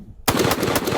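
A Nemo Arms Omen rifle chambered in .300 Win Mag fires one sharp, loud shot that cuts in abruptly from near silence and then rings out in a sustained, rough blast.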